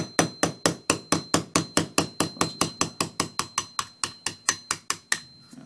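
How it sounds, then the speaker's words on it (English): A small hammer taps a punch to drive the trigger pin out of an M&P Shield pistol, about twenty-five quick, even metallic taps in a steady rhythm, close and clear, with no talking. "I'm just taking a little punch with a small hammer here and just going to tap that on out of there"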